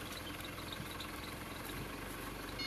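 A Mercedes OM651 diesel engine running at a steady idle, a dense, even drone with constant rumble and no changes in pace, heard close and alone.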